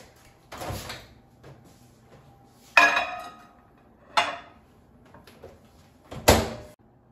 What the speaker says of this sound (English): let's put them in a microwave